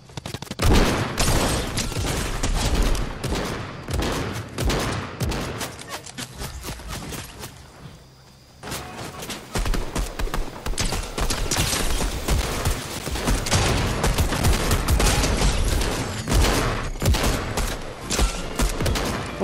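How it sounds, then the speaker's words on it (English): Dense video-game gunfire in a shooter match, rapid overlapping bursts and volleys rattling almost continuously, loud and close, with a brief lull midway before the firing resumes. "Well, somebody else is shooting at me."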